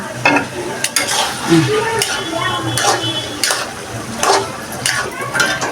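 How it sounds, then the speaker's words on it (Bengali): Fish mince puris deep-fry in a pan of oil, giving a loud, steady bubbling sizzle with frequent crackling pops and spatters, close up and without talk. "পুরিগুলো আমাদের চলে গেল চুলায়, ডুবা তেলে সুন্দর করে ভাজবে"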